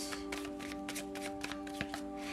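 Tarot cards being handled and shuffled in a brisk run of soft riffling flicks and taps, close and fairly quiet, over a steady sustained musical drone.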